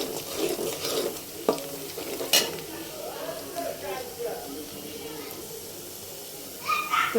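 Onions frying in a generous amount of oil for biryani, a steady low sizzle broken by scraping stirs and a few sharp clinks, with a voice talking at times over the cooking.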